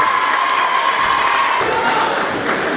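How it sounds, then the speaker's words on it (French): Crowd applauds and cheers loudly for majorettes at a 50th-anniversary event in Quiévrechain, a steady wash of clapping and shouts with a few higher children's voices mixed in. "On applaudit encore bien fort les majorettes de Kievrocha."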